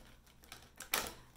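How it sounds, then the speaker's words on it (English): Tarot cards being shuffled by hand, soft papery riffles building to a brighter flutter near the end, quiet and close. "I'm just shuffling a couple more times"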